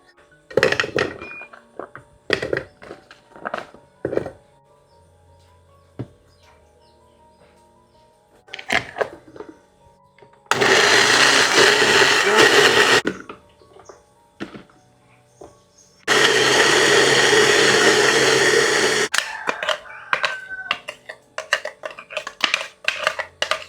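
An electric blender grinding candlenut, garlic, shallot and turmeric for an Indonesian spice paste, two loud sustained whirring bursts of a few seconds each, set between scattered kitchen clatter and knocks.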